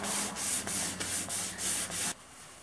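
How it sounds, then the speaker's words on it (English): Sandpaper rubs back and forth along a wooden curve in about seven quick, even strokes, close and fairly quiet, with a raspy hiss on each pass. "And fine-tune with the sandpaper."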